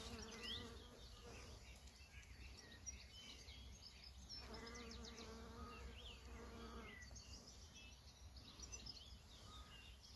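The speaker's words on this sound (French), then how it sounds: "La petite abeille qui est en train de se régaler." Bee feeding on a foxglove flower, a faint wavering buzz that rises and falls in a few short bursts over quiet outdoor background.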